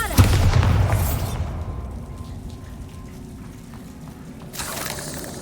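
Confringo and Bombarda explosion spells in the video game Hogwarts Legacy, a loud booming blast that fades into a long rumbling, crackling tail, then another burst near the end, with no talking.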